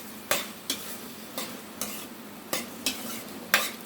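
Bhindi and onions cooking in a pan, stirred with a spoon in about seven distinct scraping strokes over a soft steady sizzle, close and fairly loud with no voices.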